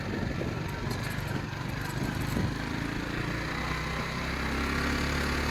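Motorcycle engine running steadily on a mountain road in the Mountain Province, a continuous close, loud drone with low rumbling tones and wind noise throughout, no talk over it.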